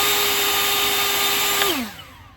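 An EGO cordless leaf blower roars at full turbo power with a steady high whine, then winds down and fades after shutting off.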